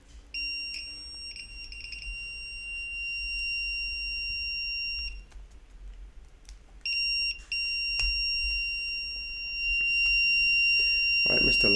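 A homemade electronic alarm sounds with a shrill, steady high-pitched tone in two long bursts separated by a short gap, with faint handling noises and a voice briefly audible beneath.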